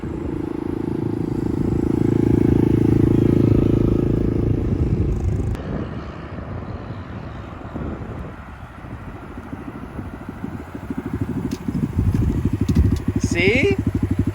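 A small Honda Grom motorcycle is ridden by a first-time rider, its engine rumbling and revving unevenly from nearby, fading somewhat mid-clip and then returning with a crackly, pulsing exhaust. Occasional voices and background noise are mixed in.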